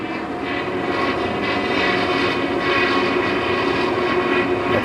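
A new King Canada wood lathe spins empty at high speed, around 6,800 RPM, giving a steady, loud mechanical whir with a constant high whine and hum, close by and unbroken, with no speech.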